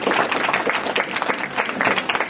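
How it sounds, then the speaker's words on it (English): An audience at a convention panel applauds, a dense, loud wash of many hands clapping steadily for a couple of seconds with no clear speech. "Applaud that."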